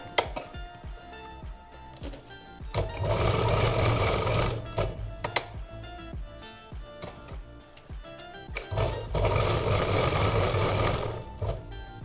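A home sewing machine stitches a cloth shoulder bag in two long, steady motor-driven runs, with short pauses and small clicks between them. The machine is loud and close, and no one speaks over it.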